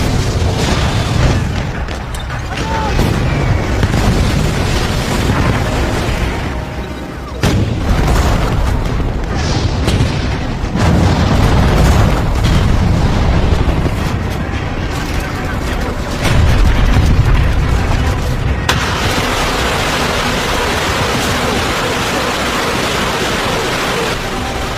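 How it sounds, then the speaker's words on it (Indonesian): A Soviet Katyusha rocket artillery barrage on Berlin: a loud, sustained roar of launches and explosions with rumbling booms and bursts, dense and unbroken, and a voice talking over it. "pasukan tentara merah Soviet mulai melakukan serangan brutal ke Berlin dengan meluncurkan senjata andalan"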